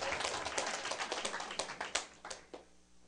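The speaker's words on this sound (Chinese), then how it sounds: "你们拍手呢吼" Sparse, faint hand claps from a lecture audience, a few scattered claps at an uneven rhythm fading out over about three seconds.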